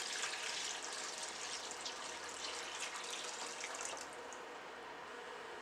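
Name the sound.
water poured in for ginger beer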